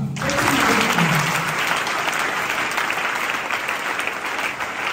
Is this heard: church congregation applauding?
yes